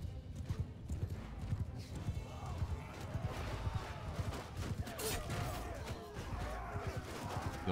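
Cavalry horses gallop in the battle game Mount & Blade II Bannerlord, a rapid, rhythmic clatter of hooves with a whinny and clashing battle noise, moderately loud and continuous throughout.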